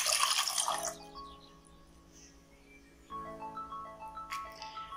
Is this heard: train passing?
no